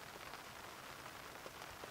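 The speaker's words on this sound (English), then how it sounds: "So it started drizzling again." Light drizzle pattering on a tent at a lakeside campsite, a faint, even, continuous patter of small drops with scattered taps and no voices.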